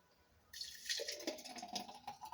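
A thick yellow-green fruit smoothie pours out of a blender jug, a soft liquid gurgle and slosh starting after a brief pause and continuing close and quiet.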